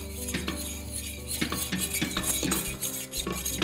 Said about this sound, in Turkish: Bunları da karıştırıyoruz.